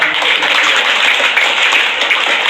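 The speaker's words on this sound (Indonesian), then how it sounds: "Kita berikan tepuk tangan." Audience applause at a talk, dense steady clapping from a crowd that stays loud and even for a couple of seconds.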